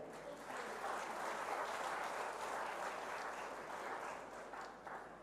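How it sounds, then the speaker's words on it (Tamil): Sustained applause from a political rally audience, dense and steady clapping throughout, loud and close, tapering slightly near the end. "அந்த மாதிரி கைத்தட்டுங்க."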